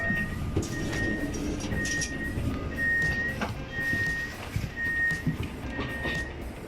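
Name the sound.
passenger train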